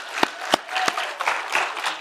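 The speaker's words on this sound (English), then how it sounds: "Let's have another big round of applause for all of our Tech Fair participants." A school chapel audience of children and staff applauding Tech Fair participants, a few loud close claps standing out over a looser scattering of clapping across the room, uneven and brief.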